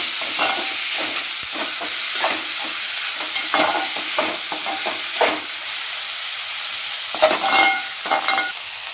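Onion sautéing in a pan with garam masala and chilli powder for onion rice, a steady hissing fry broken by frequent scraping stirs of the spatula, close and fairly loud.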